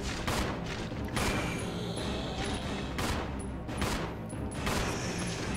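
Rapid bursts of gunfire from the video game Resident Evil 0 HD Remaster, several sharp loud shots in quick succession over a constant background of game sound.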